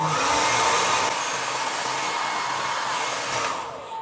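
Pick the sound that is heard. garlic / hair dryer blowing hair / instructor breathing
hair dryer blowing hair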